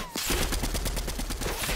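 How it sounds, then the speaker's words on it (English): Rapid gunfire from a sniper fight in Fortnite, a dense burst of repeated shots in steady rhythm lasting the whole moment, loud and close, with no talking over it. "I'm getting sniped at."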